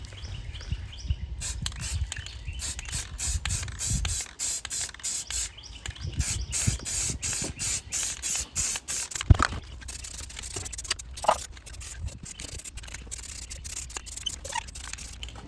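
An aerosol can sprays black paint onto a bike rack mount in repeated close hissing bursts of varying length, with short pauses between them and the occasional rattle or clack of the can.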